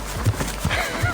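A horse moving up toward a canter gives a quick run of hoofbeats, three soft thuds in uneven rhythm, heard close with a faint breathy undertone.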